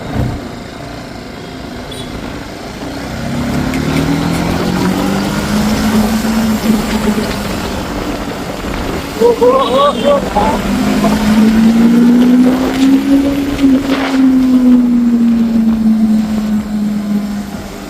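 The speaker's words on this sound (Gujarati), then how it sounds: "તો બાઈક લગાવી બાઈક કેટલાની સ્પીડ છે" A sport-mode motorcycle engine whines steadily as the bike rides at speed, its pitch rising and falling under constant wind rush, close and loud.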